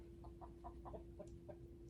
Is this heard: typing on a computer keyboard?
no